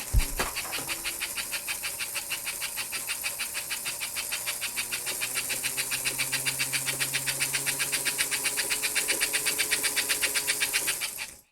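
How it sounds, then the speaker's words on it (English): An American Flyer 326 Hudson model train with a large motor runs on a test stand, giving a steady, fast mechanical whir and rapid even chuffing that holds close and continuous. "As you can see, the motor runs fantastic"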